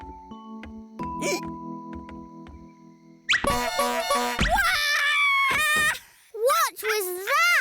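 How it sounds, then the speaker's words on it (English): A toy horn hidden under a chair gives a squeaky, bouncing toot amid a children's cartoon scene, followed by excited cartoon voices talking over one another. "I put a tootie horn under the chair to surprise you all."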